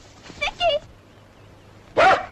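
A dog barks in a few short bursts within a 1942 wartime film scene, with a brief pair of yaps early on and one louder bark after a pause, over faint background hum.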